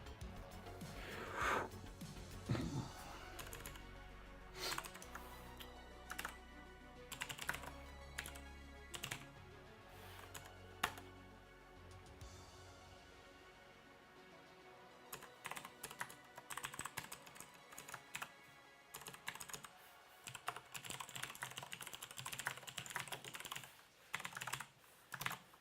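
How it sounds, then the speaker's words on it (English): Typing on a Razer computer keyboard: bursts of sharp key clicks and clacks in uneven runs with short pauses, close and fairly quiet, no talking. "this is a Razer keyboard, but it's not the same one that I had at the house"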